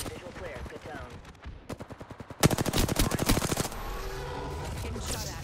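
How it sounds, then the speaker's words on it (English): Rapid automatic gunfire in the shooter Apex Legends rattles in loud, fast bursts, with a sharp close volley in the middle over a steady background of game noise. "Getting shot at."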